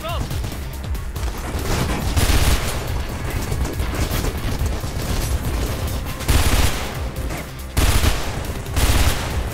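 Rapid bursts of gunfire in the video game Mirror's Edge crackle almost continuously, with heavier booming volleys punching through at intervals; no one speaks.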